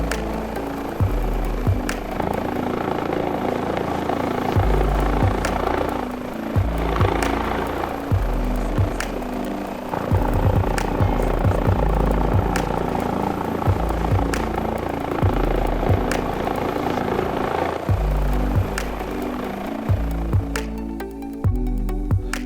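Airbus H145 helicopter in a flight simulator game, a steady loud rotor and turbine drone running throughout with rhythmic blade chop and brief shifts in pitch, no voices.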